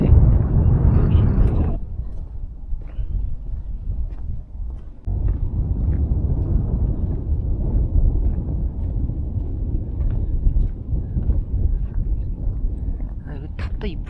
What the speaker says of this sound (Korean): 어제 이어 오늘도 바람이 불고 있네요.